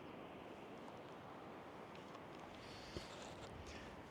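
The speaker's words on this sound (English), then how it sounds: "You can hear the river down here." A river rushes far below a Colorado canyon edge, a steady, faint broadband wash blended with wind and no voices.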